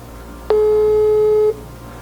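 A single steady busy-signal tone from an unanswered phone call, holding for about a second at even loudness over faint room noise, with no talking.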